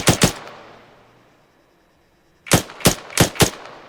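Rifle fire in the Arma 3 game: a sharp double burst at the start, then a fading tail and near silence, followed by a rapid string of four loud, close shots.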